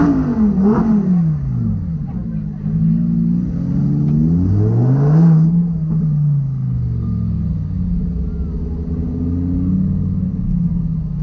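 A Lamborghini engine revs hard inside the car, with rising and falling sweeps of deep rumble repeating over about eleven seconds, loud and close, and faint voices underneath.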